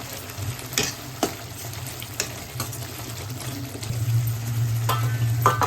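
Spinach paste with a pinch of chili sizzles in hot oil in a pan while a spoon stirs and scrapes it, giving a steady close fry with sharp scraping clicks.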